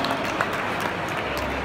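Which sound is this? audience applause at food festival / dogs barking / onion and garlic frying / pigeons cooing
audience applause at food festival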